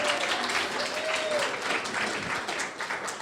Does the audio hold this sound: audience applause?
yes